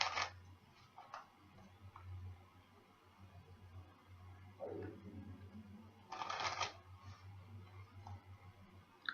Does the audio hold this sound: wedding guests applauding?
no